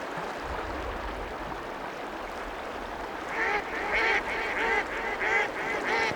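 Ducks call in the wild at Yellowstone National Park, a series of quacking and honking calls that rise from a steady outdoor hiss and repeat several times at moderate distance, with no talk over them.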